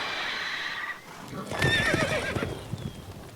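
In The Witcher 3, a horse whinnies loudly and close. Its hooves then clop in a quick, uneven patter, with a faint voice in the background.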